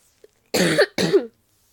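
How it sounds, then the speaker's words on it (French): Two hoarse coughs in quick succession, close and clear, with silence before and after. "j'ai toujours de la toux"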